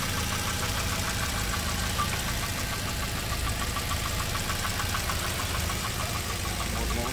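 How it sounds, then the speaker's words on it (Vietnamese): A 2009 Daewoo Gentra X hatchback with a 1.2 engine idles nearby, a steady even mechanical hum with a faint rhythmic ticking that continues for several seconds. "Máy nổ khá là êm, cam kép van biến thiên 16 van nạp phun xăng điện tử."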